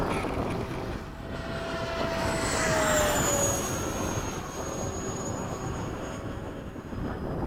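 Hobby King Avios 90mm MiG-17 RC jet taxiing: a steady electric ducted-fan whine with rising and falling pitch sweeps over a constant broadband rush, near and fairly loud throughout.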